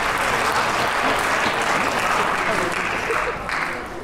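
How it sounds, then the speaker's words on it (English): Audience applause at a high school winter choral and orchestra concert, greeting visiting alumni: a dense, steady wash of clapping from a full hall that holds strong throughout and begins tapering off near the end. "you get your own applause"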